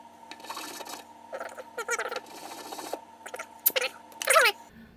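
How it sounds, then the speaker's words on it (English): A small pen kit part is rubbed with sandpaper in short, scratchy strokes with brief pauses between them, close and fairly quiet over a steady faint hum. "I kind of like to just hit that with just a little bit of sandpaper"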